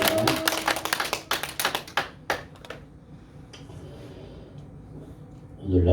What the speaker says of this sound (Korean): 우리 박수로 하나님께 영광 돌리도록 하겠습니다.